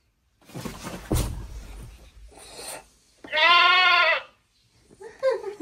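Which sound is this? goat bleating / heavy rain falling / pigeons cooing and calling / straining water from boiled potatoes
goat bleating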